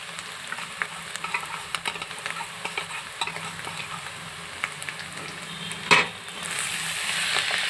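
Jackfruit curry masala of coconut, poppy seeds, cashews and ginger stirred in a pan, a quiet sizzle with repeated light scraping taps, then one sharp clank and a louder hiss near the end, no talking.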